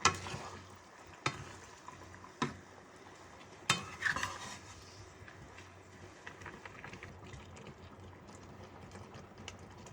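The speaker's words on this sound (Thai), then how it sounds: "แล้วคลุกเคล้ามะเขือเทศนะคะ ให้เข้ากับ น้ำกับน้ำมันนะคะ" Tomatoes being stirred with water and oil in a pan for tomato sauce, giving soft scraping and faint sizzling with a few sharper utensil knocks near the start, fairly quiet throughout.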